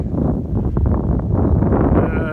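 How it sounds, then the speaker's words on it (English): Strong south wind roars steadily against the microphone in a pasture, a loud, constant broadband rush with gusty swells throughout, wind blowing through trees. "I can hear the wind blowing through the trees. It's strong."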